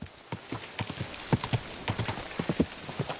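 Horse hooves clip-clopping in Kingdom Come Deliverance 2, a steady walking rhythm of distinct hoofbeats, close and fairly loud, with no talking over them.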